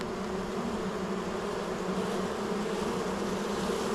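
Honey bees buzz during an August beehive inspection at an apiary, a dense steady drone from many bees close by, unbroken and moderately loud with no talk.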